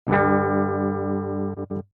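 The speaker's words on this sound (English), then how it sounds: "Just to show y'all what my guitar sounds like with everything off" A clean, unprocessed electric guitar with every effect off rings out as one sustained chord that decays slowly, then ends with two short strums, close and alone.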